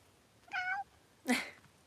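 Two short cat meows about half a second apart, the first a clear tonal call and the second a rougher, breathier one, close by in a quiet room.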